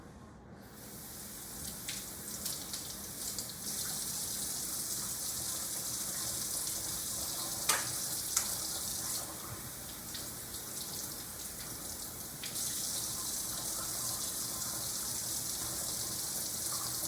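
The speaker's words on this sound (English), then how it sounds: "and then run some cool water over them." Cool tap water runs steadily over berries in a sink, a constant close hiss of flowing water with a few soft splashes and clicks as the fruit is rinsed.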